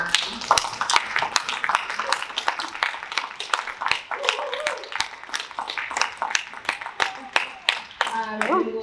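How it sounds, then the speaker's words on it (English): Audience applause for panelists at the close of a college event, a dense patter of many hands clapping throughout with scattered louder claps and some voices mixed in. "one more round of applause for our panelists"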